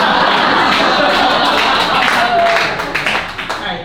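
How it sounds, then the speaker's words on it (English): An audience at a live comedy show claps in a dense, continuous wash of applause that thins into scattered separate claps toward the end, loud and close. "the claps are unnecessary"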